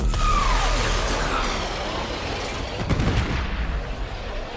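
Missile ability fired in Warframe Railjack, a dense burst of rumbling launches and booming impacts with a sweeping whoosh, loud and continuous, a sharper explosive crack near the end.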